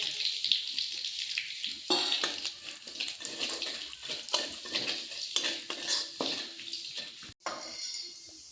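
Whole spices, bay leaf, cardamom, cinnamon, cloves and cumin, sizzle in hot oil as a spoon stirs and knocks against the pan in frequent clinks, close and busy, with a brief pause near the end.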